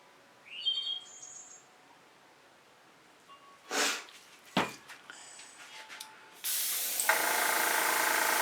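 An airbrush sprays acrylic paint in short hissing bursts, then settles into a steady close spray for the last couple of seconds. Faint chirpy squeaks come before it, and no one speaks.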